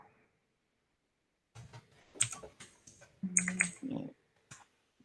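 Typing on a computer keyboard during a programming session: after a silent start, bursts of quick clicks and key taps arrive in irregular clusters, close and moderately loud, with no talk.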